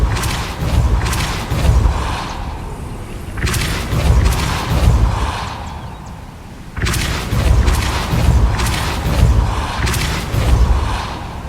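Hogwarts Legacy Repulso spell casts as three heavy booming bursts in a repeating rhythm, each a deep thump with a rushing magical wash behind it, loud and close with no talk.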